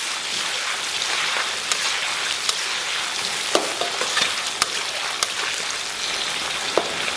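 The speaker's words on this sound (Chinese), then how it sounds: "然后给它炒香炒化" Scallion, ginger, chili paste, bean paste and hotpot base frying in warm oil, a dense even sizzle close by with scattered small pops and crackles throughout.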